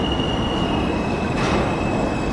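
A New York City subway C train rolls into a platform with a steady, loud roar of wheels on rail and a thin high squeal running throughout, close by and continuous with no voices.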